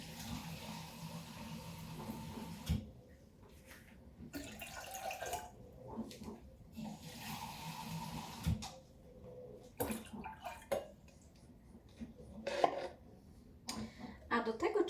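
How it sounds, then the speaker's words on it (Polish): Water pours and splashes into a kettle in uneven bursts, quiet and close, with soft clinks and pauses between pours. "nalewamy sobie wody"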